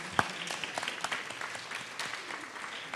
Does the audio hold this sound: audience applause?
yes